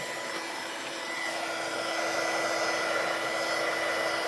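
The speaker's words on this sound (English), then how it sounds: "this is a heat tool, like an embossing heat tool" An embossing heat tool blows hot air in a steady, even roar with a faint whine running through it, close and unbroken, with no voices over it, used during a watercolor painting session.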